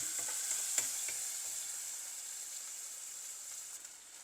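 Onion, garlic and ginger paste frying in a pan for prawn biryani, giving a steady bright sizzle throughout with a few soft stirring knocks near the start.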